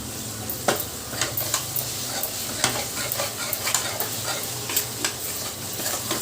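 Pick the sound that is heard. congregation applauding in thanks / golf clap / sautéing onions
sautéing onions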